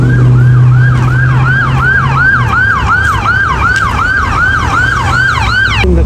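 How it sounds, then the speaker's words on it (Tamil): An ambulance siren wails loud and near at a road accident scene where a car and motorbike collided head-on, its rapid repeating yelp cycling steadily over low engine rumble. "ஆம்புலன்ஸ் வந்துடுச்சு."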